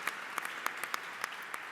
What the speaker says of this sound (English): And also a round of applause for Perry would be in order.